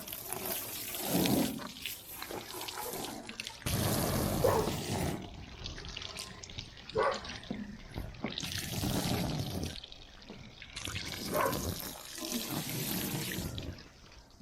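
During a wash, water streams and splashes off a ute's canopy roof in several bursts, with quieter trickling between them, heard close.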